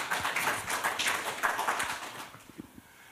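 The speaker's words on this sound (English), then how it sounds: "Please give him a round of applause on my behalf." Applause from an audience at a university career day, a dense patter of many hands clapping that fades over a few seconds into scattered single claps.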